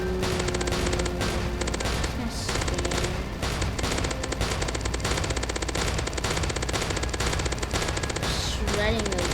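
A minigun in a zombie video game fires continuously with rapid, dense rattling bursts and clattering effects that fill the whole stretch at a loud, constant level.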